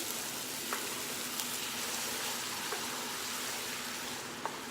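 A pan of cooking food sizzles steadily as heavy whipping cream is stirred in, an even hiss with faint occasional clicks of the utensil, no voices.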